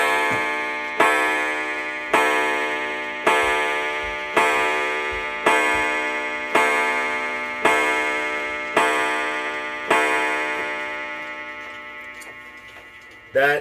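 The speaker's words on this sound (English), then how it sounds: "That is what the Ogee's clock sounds like with its new gong" A Seth Thomas 30-hour Ogee clock strikes its new gong in a steady series of about eleven evenly spaced, ringing blows, each tone decaying slowly before the next, close and clear with a faint tick underneath.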